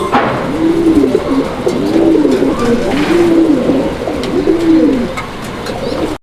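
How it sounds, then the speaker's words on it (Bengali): A male pigeon at a pigeon seller's stall coos in a slow series of about five rolling calls, close and clear over a faint background hum. "এটা হচ্ছে নর কবুতরটা এর ডাকটা আপনারা দেখতে পাচ্ছেন"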